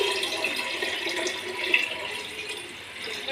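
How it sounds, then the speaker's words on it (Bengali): Water poured steadily into a cooking pot for biryani, a faint, continuous trickling splash with no talk. "আগে জলটা দিয়ে দেবো, তারপর আমি চালটা দেবো"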